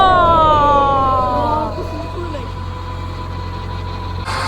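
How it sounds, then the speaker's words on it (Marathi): A running tractor engine drones steadily through the whole clip as a constant low hum, with a tonal whine fading early on and loud wind-like noise over it. "माझा आवाज येत नाही कारण ट्रॅक्टर चालू आहे"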